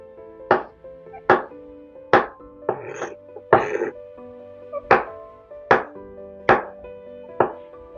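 A knife slicing mushrooms on a cutting board gives about ten crisp, evenly spaced chops, close and clear, with a couple of rougher scraping strokes in between.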